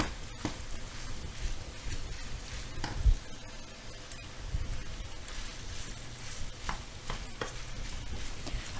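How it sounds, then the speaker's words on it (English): Meat fries in a pan for bigos, Polish hunter's stew, with a steady soft sizzle under scraping and tapping from a utensil as it is stirred; close up, and no one speaks. "we'll mix our meat here. You see it's getting a little bit of fat out. We want it to be fried."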